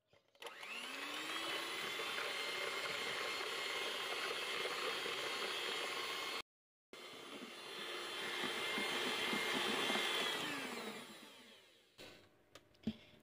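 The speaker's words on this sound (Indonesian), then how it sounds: "Sekarang telur, gula pasir dan SP-nya kita mixer dengan kecepatan tinggi sampai putih, kental dan berjejak" An electric mixer beats eggs, sugar and SP at high speed for an avocado Pop Ice sponge cake batter, a loud, sustained whirring drone that briefly cuts out, resumes, then winds down to a few clunks, with no talk.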